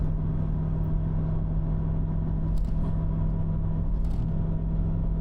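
A truck engine drones loud and steady in the cab after a downshift on a downhill grade, with a constant low rumble and faint rattles and no talking.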